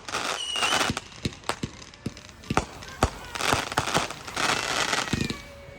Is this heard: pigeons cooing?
no